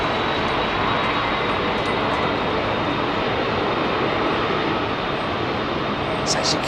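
An airliner climbs away from runway 27R at London Heathrow, its jet engines a loud, continuous roar that stays strong and even throughout, with no voices.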